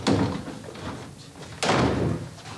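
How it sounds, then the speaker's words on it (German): An interior door opens with a sharp thud near the start, then a second, louder burst of door noise follows about halfway through, close and alone with no voices. "Die Tür ist offen."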